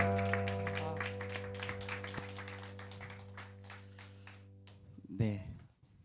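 A church congregation at a Sunday worship service applauds with a steady, dense patter of many hands clapping over a held organ or keyboard tone, fading over several seconds before a voice speaks.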